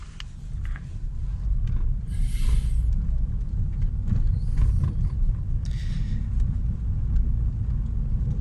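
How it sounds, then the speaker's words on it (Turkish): A car driving slowly over a rough, broken road, with a steady low rumble of tyres and suspension and intermittent light rattles and clicks from items loose inside the glovebox. "Torpidonun içinde bazı eşyalar var arkadaşlar. Onların dolayı biraz ses geliyor."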